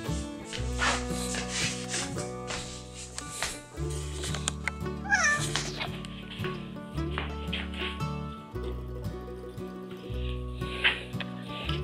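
A stray cat meows repeatedly, close and loud, on a cold morning, with several drawn-out calls spread across the clip over soft rubbing and handling noises.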